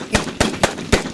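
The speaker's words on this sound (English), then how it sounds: "Gunshot." Four sharp, loud gunshot-like bangs ring out in quick succession, each a short broadband burst spaced roughly a quarter second apart, close and punchy with no voices over them.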